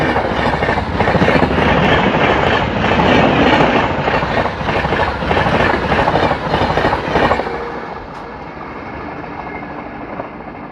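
Hoshiarpur–Agra Cantt Express LHB coaches rumble loudly along the rails after leaving Karnal station, a dense clattering roar with rhythmic wheel clicks that eases to a softer, steady run near the end.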